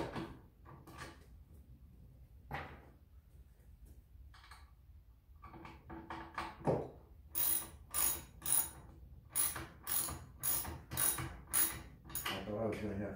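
Ratchet wrench tightening the nuts on the base of an Auxxlift attic lift platform, starting with a few scattered clicks and then moving into a steady run of loud, evenly spaced ratcheting strokes close by.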